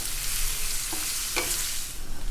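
Salmon pieces and salmon skin are stirred in cornstarch in a bowl, making a continuous gritty hiss broken by a couple of light clinks midway; no voices.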